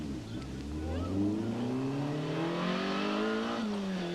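A 1991 rally car at the Ypres 24 Hours Rally drives off after rolling over, its engine revving and climbing steadily in pitch as it pulls away, loud and close without any talk.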